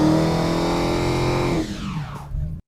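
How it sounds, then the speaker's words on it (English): A supercharged V8 in a Dodge Challenger Hellcat revs hard with a deep rumble under a high supercharger whine, then the pitch drops sharply as the throttle closes and it cuts off. "you get that deep, classic American V8 rumble, sure, but layered right over the top of it is this high-pitched, almost alien spaceship scream from the supercharger"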